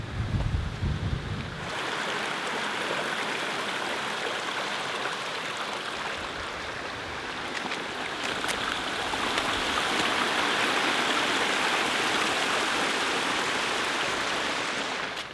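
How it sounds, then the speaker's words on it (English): Steady rushing water fills the scene, a constant broadband roar of a small waterfall heard close, with faint wind noise and no voices. "there's a little waterfall here, so we'll check that out as well"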